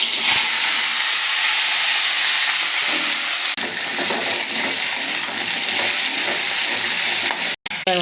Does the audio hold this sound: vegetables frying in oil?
yes